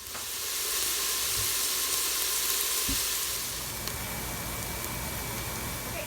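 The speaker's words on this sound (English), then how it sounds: "I press the saute button and I'm going to caramelize the onion in here" Onions sautéing and caramelizing in an Instant Pot on the sauté setting give a steady, close sizzle and frying hiss that holds throughout with no speech.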